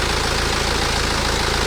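A 2010 BMW car engine idling, loud, close and steady with an even, continuous drone and no talk over it.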